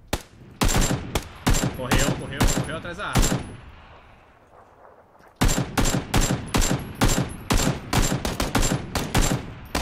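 Rapid gunfire exchange in an online shooter match, loud close bursts of shots in quick succession, a brief lull with fading echoes, then another long volley, with players talking over it.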